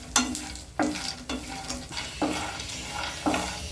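Garlic and peanuts frying in a pan, stirred with a spoon in repeated scraping strokes about once a second over a steady soft sizzle, close by with no talk.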